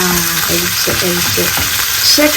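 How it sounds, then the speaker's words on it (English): Garden peas hitting a hot pan of vegetables for a warm garri salad, a steady loud sizzle and frying hiss with light stirring clatter throughout. "Let's go ahead and add our garden peas"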